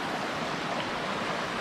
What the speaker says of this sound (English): There's a lot of nice cascades running here in Post Oak Creek.